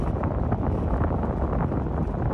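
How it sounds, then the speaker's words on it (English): Rain falling in the New Mexico desert during monsoon season, heard as a steady, hissing wash of static-like noise with gusty wind mixed in, no talking. "that is the sound of rain falling"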